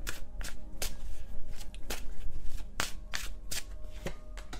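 A deck of tarot cards shuffled by hand up close, with repeated crisp riffles and slaps in a steady rhythm and no speech.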